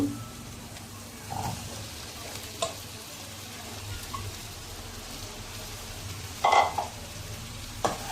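Chopped onions frying in a pan for an onion egg curry, a faint, steady sizzle with a few soft scrapes and clinks as they are stirred, and no voice.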